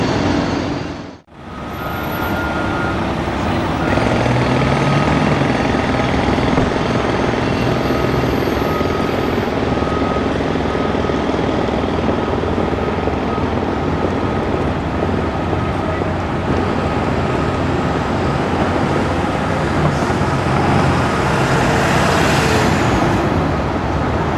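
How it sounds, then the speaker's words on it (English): Cars and dense city traffic among tall buildings in New York City make a constant loud roar, broken by a brief dropout near the start, then a steady wash of engines and wind noise. "You hear the cars in the background, everything."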